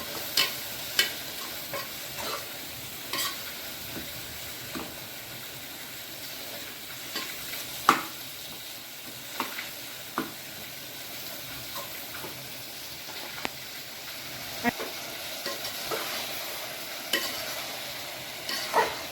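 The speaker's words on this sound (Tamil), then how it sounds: "மல்லித்தூள், மிளகாத்தூள் இதை போட்டு நல்லா பச்சை வாசனை போகிற வரைக்கும் நல்லா வறுத்துக்குவோம்" Coriander powder and chili powder masala frying in a pan for mutton gravy: a steady close sizzle with scraping stirs and scattered sharp clicks of the spoon against the pan, continuing throughout with no talking.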